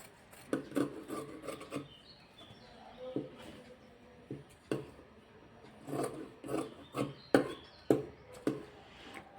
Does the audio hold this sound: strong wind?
no